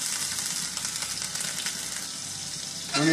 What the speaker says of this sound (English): Once your pan is heated up, you gotta place the steak